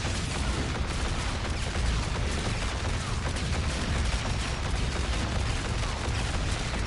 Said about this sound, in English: This one's out of ammo, I'm shooting the other one.